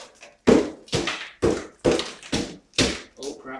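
A hammer strikes frozen ice in about seven sharp, evenly spaced blows, each a loud close crack that quickly dies away.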